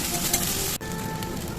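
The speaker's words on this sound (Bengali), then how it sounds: "এবারে ভালো করে এপিট ওপিট করে কষিয়ে দেবো মশলাটাকে" Ground spice paste sizzles and fries in hot oil in a pan, a loud, close, continuous crackling hiss that dips briefly once as the paste is stirred.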